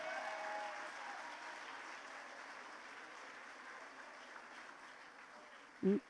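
Steady applause from a large audience at an International Women's Day 2025 event, sustained throughout, ending with a short thump.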